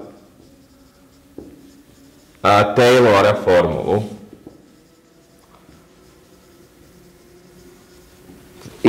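Chalk or pen strokes writing out a Taylor formula during a mathematics lecture come as a short burst of scratchy scribbling over a couple of seconds, with someone speaking quietly around it.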